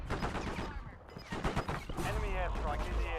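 Rapid gunfire in an online shooter game, bursts of shots mixed with someone talking loudly over them.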